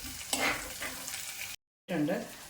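Garlic, curry leaves, small onions and ginger sizzle in hot oil while being stirred for a Kerala seer fish chilli curry, a close, steady crackling fry with a brief cut before the sizzle resumes.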